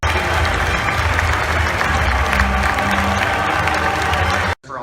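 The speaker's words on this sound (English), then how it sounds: "give a round of applause to Walt Disney Imagineering and to Lucasfilm members" A large crowd at Star Wars Celebration 2017 applauds and cheers, a loud, dense wash of clapping that holds steady before cutting out abruptly near the end.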